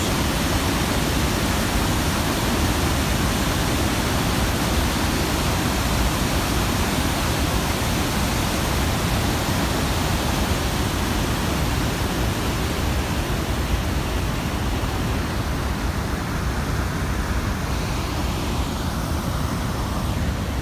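A steady, dense roar of a rushing waterfall in Yellowstone fills the whole stretch, constant and loud with a deep rumbling low end and no other sounds breaking through.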